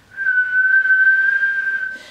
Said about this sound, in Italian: esce un suono chiamato respiro del fischio